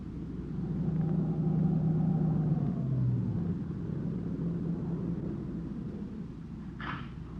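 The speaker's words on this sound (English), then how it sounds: "It swung off the dirt road and pulled to a stop near the shack." A car rolls along a dirt road near a shack with a low, steady engine rumble that winds down as it pulls to a stop, followed by a brief click.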